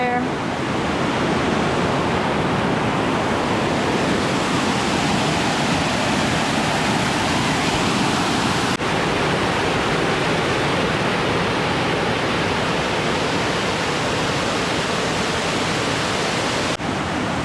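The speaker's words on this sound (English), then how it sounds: "Kind of see another little wet falls flowing out over there." A small woodland waterfall at Short Springs State Natural Area in Tennessee gives a steady, broad rushing roar that holds constant throughout, close and loud.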